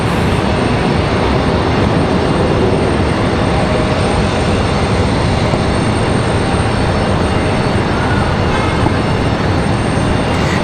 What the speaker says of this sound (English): A couple of exec jets touching down here.